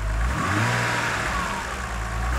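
A BMW 330i engine with a known engine problem revs up close, a loud rising roar that holds briefly before easing slightly.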